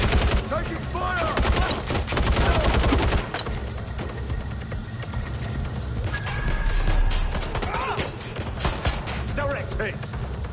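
Gunfire in the video game Watch Dogs Legion, rapid repeated shots in dense bursts mixed with clattering effects, under shouted character voices.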